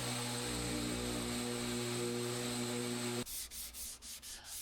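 A power sander whines steadily with a buzzing hum on a wooden plank, then cuts out, followed by a few rhythmic rubbing strokes of hand sanding.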